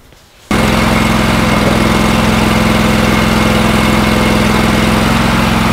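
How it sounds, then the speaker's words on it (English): A pressure cleaner's engine starts after a brief quiet moment and then runs steadily with a loud, constant drone and vibration, close by and with no voices, during work on a cypress pine table. "I'm using a pressure cleaner."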